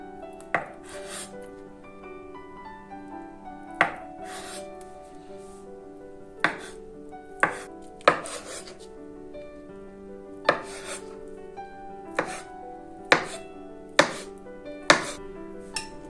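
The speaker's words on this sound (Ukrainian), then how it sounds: "Також нарізаємо варені яйця квадратиками." Sharp knife chops dicing boiled eggs strike a cutting board about a dozen times at irregular intervals, close and distinct, with a faint steady hum underneath.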